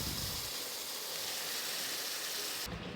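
A steady, loud sizzle and hiss fills the clip as wet ground tomato hits a hot pan with browned garlic while making tomato pickle, continuous throughout and cutting off sharply near the end.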